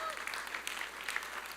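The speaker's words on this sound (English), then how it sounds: "yeah, you can clap." Congregation applauding at a Sunday church service, a steady wash of many hands clapping throughout at moderate level with no voices over it.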